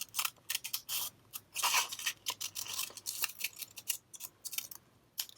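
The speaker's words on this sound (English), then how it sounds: "So again, for this, I'm going to cut my template up." Scissors snip through a paper template for a cut-paper children's book illustration, with a rapid run of crisp, close cuts broken by short pauses, heard alone.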